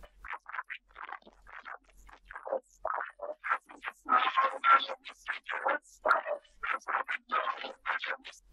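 Garbled voice-like fragments heavily processed through de-esser, de-clicker and de-clipper repair tools, thin and warbly with choppy artifacts, coming in short bursts over near silence.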